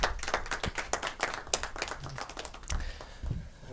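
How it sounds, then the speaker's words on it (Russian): Audience applause at the Belarusian Cup 2022-2023 quarterfinal draw ceremony, greeting the country's best footballer of 2022; a few seconds of steady, fairly close clapping from a modest crowd with no talk over it. "Ваши аплодисменты."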